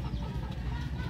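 A hen clucks in short, low, close repeated notes inside a backyard coop, a brief continuous burst with no talking.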